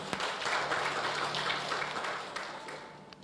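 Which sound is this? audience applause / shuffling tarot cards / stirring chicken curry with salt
audience applause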